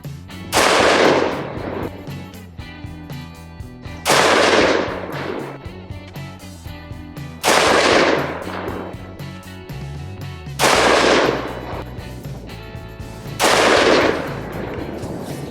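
A DPMS Oracle A3 AR-15 rifle fires Hornady ammunition from a shooting rest outdoors, five loud, evenly spaced shots about three seconds apart, each with a sharp crack and trailing echo, no talk.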